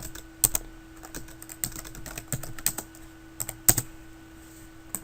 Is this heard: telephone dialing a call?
no